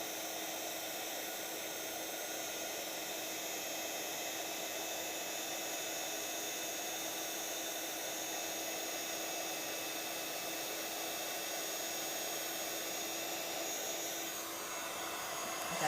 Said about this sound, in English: we're just going to move that heat gun over the image